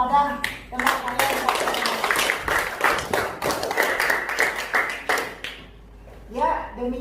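Classmates in a middle-school classroom clap for a presenter, a scattered burst of handclaps with thumps and taps that trails off, with students' voices around it.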